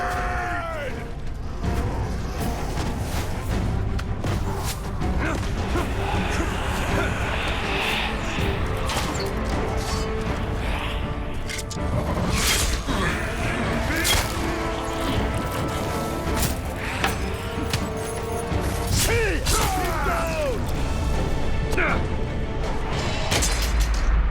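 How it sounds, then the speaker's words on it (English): A fortress gate is battered and broken down in the Middle-earth fantasy game Shadow of War, with repeated heavy crashes, booms and thwacks rising over a loud, busy battle din of mechanisms and clatter, and scattered voices mixed through. "Destroy the gate!"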